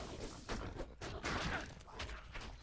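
Corpse Explosion spell in the video game Diablo 2, a run of crackling, thumping bursts layered over busy combat noise, several blasts in quick succession.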